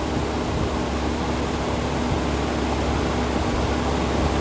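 A car radiator fan runs steadily during an airflow test against a flat plate, giving a constant loud broadband whoosh with a low hum and no change throughout.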